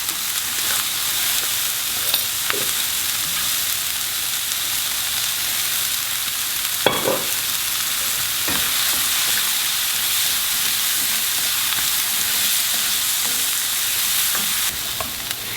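Tempeh and onions fry in a hot pan with a steady, loud broadband sizzle, broken by a few sharp scraping strokes as the spoon stirs them around.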